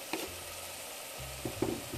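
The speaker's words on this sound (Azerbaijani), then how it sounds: "Yeniden kavruluruz." Vegetables with tomato paste fry in a pan for Azerbaijani red lentil soup, giving a low steady sizzle. Several short scraping stirs and clinks sound close by over it, and no one speaks.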